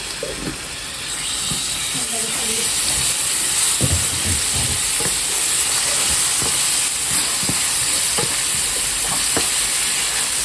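Ginger and garlic frying with beef tripe in a pan, a steady close sizzle and hiss with occasional stirring scrapes and clinks throughout.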